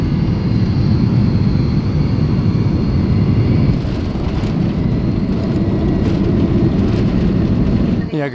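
Inside a passenger airplane approaching Port Moresby, Papua New Guinea, a loud, constant engine and cabin drone runs throughout, with a voice talking over it.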